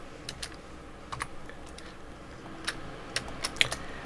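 Quiet, sporadic computer keyboard key presses while muting sounds in music production software, a few isolated clicks with short pauses between them, close and clear over a faint background hum.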